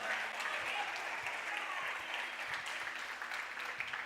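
A church congregation applauds during a sermon, a steady, even wash of many hands clapping at a moderate distance, fairly quiet and unbroken throughout.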